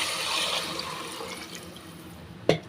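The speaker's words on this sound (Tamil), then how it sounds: "இப்போ வந்து தண்ணி சேர்த்துக்கிறேன்" Water pours steadily into a pot of gravy for rice, a soft continuous splashing and trickling wash heard close, ending with a short sharp clink near the finish.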